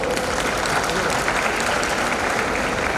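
A graduation day audience at a dental college applauds to welcome the parents, a thick, loud, unbroken roar of many hands clapping with crowd noise mixed in.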